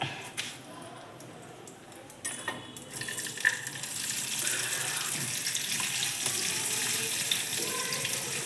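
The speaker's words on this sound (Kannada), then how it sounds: "ಈ ಸಣ್ಣ ಸಣ್ಣದಾಗಿ ಕಟ್ ಮಾಡ್ಕೊಂಡಿರೋಂಥ ಈ ಟೊಮೆಟೊ ಹಣ್ಣು ಏನಿದೆಯಲ್ಲ, ಇದನ್ನ ಬಾಣಲಿ ಒಳಗೆ ಹಾಕಿ ಚೆನ್ನಾಗಿ ಹುರ್ಕೋಬೇಕು" Finely chopped tomatoes hit a hot pan for tomato chutney, and a broad, steady hiss of frying builds and holds after a few scattered clinks.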